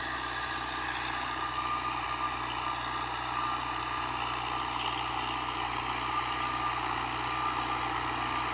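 A Dabang tractor fitted with a 54-blade cutter rotavator runs at a steady engine drone. The tone holds constant throughout, with a continuous mechanical hum and no talk.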